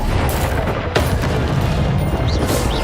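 A Bombarda spell explodes in Hogwarts Legacy: one sharp blast about a second in, set within a dense, continuous backdrop of combat booms and crashes.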